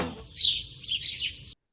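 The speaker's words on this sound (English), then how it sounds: "Sparrow." A sparrow chirps in two bright, quick bursts, close and clear, then stops abruptly.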